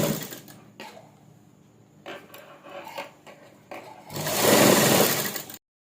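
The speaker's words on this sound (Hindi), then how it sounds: "इसको ऐसे ही हल्के हाथ से पकड़ के आप पूरी बाजू में सिलाई लगा दें" A sewing machine stitches a sleeve onto a suit in several short runs of rapid mechanical chatter separated by pauses, ending with a longer, louder burst of stitching.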